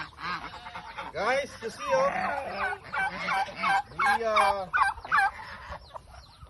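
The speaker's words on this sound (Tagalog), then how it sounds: "the chicken and the duck are all excited to eat." Chickens and ducks at feeding time on a farm call out excitedly in a run of repeated, warbling squawks and quacks, close and loud, while someone talks over them.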